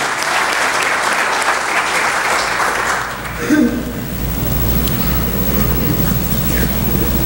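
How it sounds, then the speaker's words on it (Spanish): An audience applauds to welcome a speaker at a mining safety lecture, a dense burst of clapping for about three seconds, then a brief voice and a softer, thinner patter of claps continuing. "Un voto de aplauso para recepcionar al"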